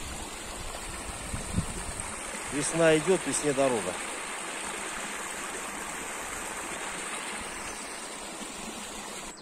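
A spring forest stream fed by melting snow and waterlogged woodland; steady rushing, babbling water throughout, with someone speaking briefly over it near the middle.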